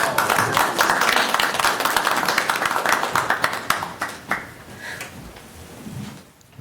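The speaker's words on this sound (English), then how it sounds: "All right, let's give a round of applause." Applause at a Board of Health meeting: a roomful of hands clapping steadily, thinning into a few scattered sharp claps before fading to near silence.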